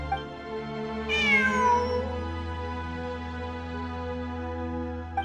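A cat in Genshin Impact gives one clear, drawn-out meow that falls in pitch, heard alone over a steady low game ambience hum.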